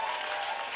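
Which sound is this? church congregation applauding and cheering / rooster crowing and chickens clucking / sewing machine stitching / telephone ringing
church congregation applauding and cheering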